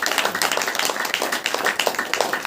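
A church congregation claps along in a fast, even rhythm during a Hindi worship meeting, the claps sharp and close together, filling the room without speech over them.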